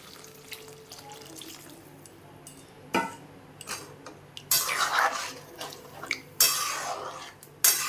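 Hot water is poured into a pan of paneer potato curry after a few clinks of utensils against the pan. Two loud, gushing bursts of pouring follow, with brief clatters between them.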